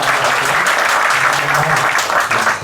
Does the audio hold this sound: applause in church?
yes